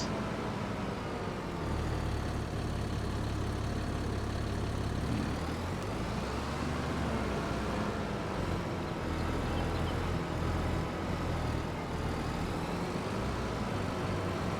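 Farming Simulator 22 tractor engine running at a steady drone, loud and continuous throughout with a low rumbling hum, on a rice farm map.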